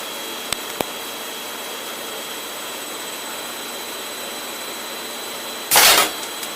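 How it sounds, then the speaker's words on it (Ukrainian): A guillotine cutting beeswax foundation sheets gives a sudden loud chop near the end, after a steady mechanical hum and two tiny clicks early on. "Гільятіна працює чітко."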